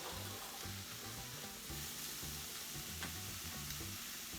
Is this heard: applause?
no